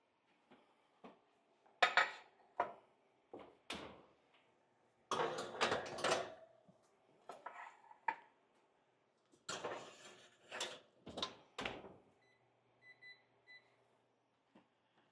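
Cupcake pan going into a preheated oven amid sharp metallic clanks and rattles of bakeware and an oven door, several separate clattering bursts spread out and close by, with no talk.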